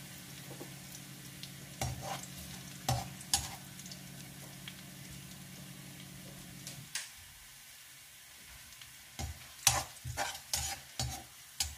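Garlic stirs and fries in a pan toward golden brown, a soft steady sizzle with irregular spoon scrapes and clinks that turn sparser and sharper as the frying quietens, close and fairly faint, with no voices.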